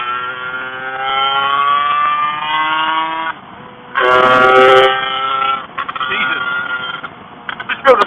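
A 56hp liquid-cooled Lambretta Casa Performance SSR 265 scooter on a road test, its engine revving hard and climbing in pitch, dropping briefly between pulls, with a rider talking over the loud, close exhaust.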